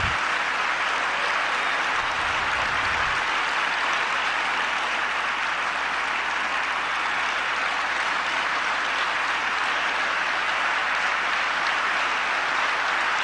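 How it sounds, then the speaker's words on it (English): Big, thundering applause from a large crowd greeting an announcement, a continuous, dense roar of clapping that stays loud and even for over thirteen seconds with no voices on top. "There's a big announcement, big thundering applause."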